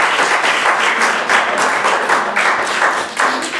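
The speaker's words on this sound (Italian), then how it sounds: "allora facciamo un altro applauso ad Anna" Audience applause at an Italian art exhibition event, steady dense clapping from a crowd throughout, fairly loud and without speech.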